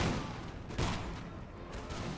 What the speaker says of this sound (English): They managed to fire 1 volley.